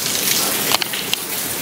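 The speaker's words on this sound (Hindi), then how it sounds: "तो बारिश हो रही है" Rain falls steadily in a dense, hissing patter with a few sharper drop hits, close and continuous across a short stretch.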